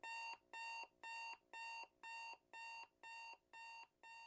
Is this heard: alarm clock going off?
yes